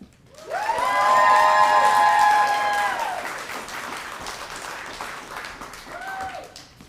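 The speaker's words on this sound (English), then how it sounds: "So please give a round of applause for Isaac." Audience applause and cheering at a multicultural graduation celebration, swelling quickly, with a voice calling out over the clapping crowd before it gradually fades.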